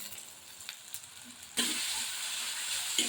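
Onion paste hits a pan of hot frying spices and melted tomatoes with a sudden loud sizzle that holds steady to the end, after a quiet stretch of faint stirring taps.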